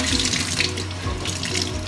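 Tap water runs steadily from a faucet into a sink, splashing onto a paper towel held underneath to soak it, close and continuous with no talk.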